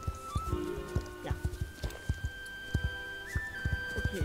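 Horse hooves clip-clop in a steady walking rhythm in Star Stable Online, close and clear, with a faint whistle-like tone running beneath.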